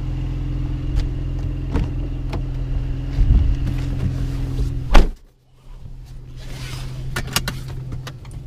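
A 2019 Mercedes-AMG C43 with four-wheel drive sits running with a low, steady engine rumble, close by, with a sharp clunk near the middle before the rumble settles into a quieter idle.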